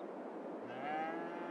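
Cattle in a cattle pen in the farming video game Farming Simulator 22 give a long, drawn-out moo, clear and moderately loud over a steady low background hum.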